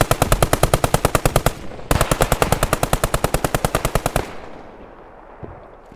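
Sustained automatic machine gun fire in the World War II shooter Squad 44, aimed at a jeep: two long, rapid, loud bursts with a brief gap between them, then the firing stops and a quieter, faint tail follows.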